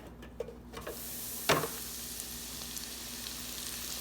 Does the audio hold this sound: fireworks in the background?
no